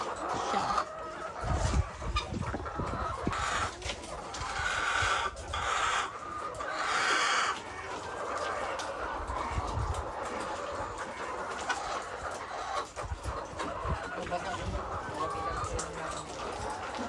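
Backyard chickens cluck and murmur continuously around the coop, a busy, close flock chatter with occasional louder calls and rustling throughout.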